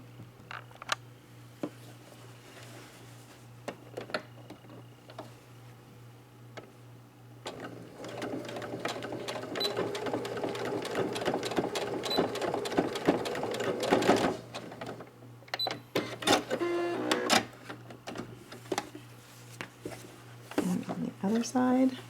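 Sewing machine stitching wire into a fabric mask, a close mechanical clatter of rapid needle strokes running in bursts with short stops, heard under a person talking.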